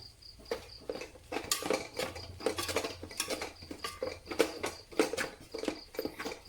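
Parotta pieces being tossed and mixed in a pan for kothu parotta, giving repeated clinks and scrapes of a metal spatula against the pan in an uneven rhythm, close by with no talking.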